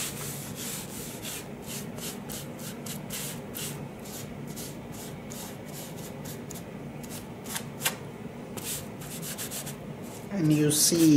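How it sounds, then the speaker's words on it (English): Oil rubbed by hand onto the exposed willow face of a cricket bat, a steady close rasping and brushing that goes on throughout, with a slightly louder handling noise near the end. "anywhere I see an exposed willow, I'm gonna rub the oil on the bat surface"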